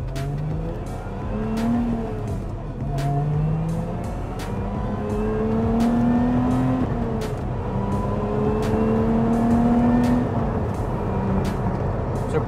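Lotus Emira sports car engine revving loudly while driving, with rising and falling pitch sweeps as it climbs through gears and brief dips at shifts, heard close and alone throughout.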